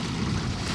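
A sailing boat motors across a glassy, calm Pacific Ocean at about four knots, giving a steady low engine drone with hissing wind and water noise layered over it, continuous and unbroken.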